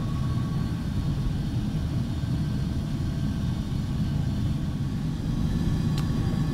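A Carenado 390 Premier IA business jet holds short in Prepar3D, its engines idling with a steady low rumble and a faint, even whine. There are no pauses.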